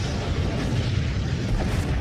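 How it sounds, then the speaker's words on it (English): Wartime American ammunition dump on an Iwo Jima beach blowing up under Japanese fire, heard as a continuous deep rumbling roar of explosions with dense low booms and crackling bursts, loud and sustained without voices. "the Japanese score a hit on an American ammo dump on the beach."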